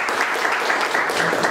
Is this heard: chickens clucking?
no